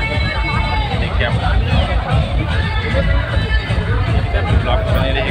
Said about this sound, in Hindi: शादी तो अच्छी, बहुत भीड़ है यहाँ पर